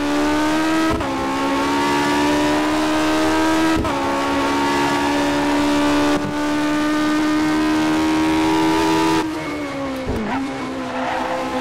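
A Tyrrell P34 race car at Silverstone in rFactor 2 screams at high revs with a steady, harmonic-rich engine whine, broken by quick gear changes that dip and restart the tone several times. The engine is loud and close, with no voices.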